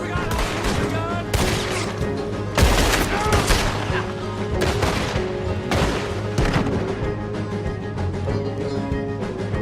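Heavy gunfire in Red Dead Redemption 2, sharp loud shots and volleys cracking at irregular intervals over a constant background of music and ambience, with occasional voices.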